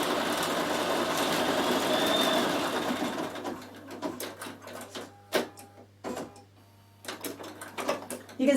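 A Bernina 7 Series embroidery module stitches letters with a fast, steady mechanical whir for the first few seconds, then settles into scattered short clicks and thumps of the machine moving and trimming thread.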